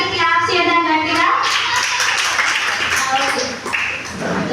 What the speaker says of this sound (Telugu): మరి అందరూ చేస్తున్నటువంటి వాళ్ళందరికీ క్లాప్స్ చేద్దాం గట్టిగా